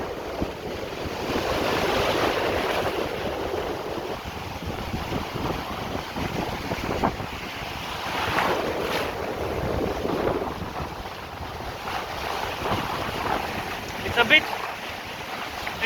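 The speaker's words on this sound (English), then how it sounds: "The water is a bit wild" Wild Atlantic Ocean waves crash and surge on a windy, rainy day in steady broadband roar, with gusts of wind buffeting the microphone and swelling peaks of surf throughout.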